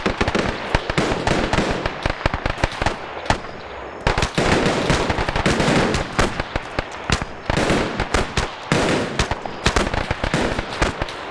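Rapid bursts of gunfire crackle through a WW2 video game battle, dense volleys of shots overlapping continuously with brief lulls, loud and close.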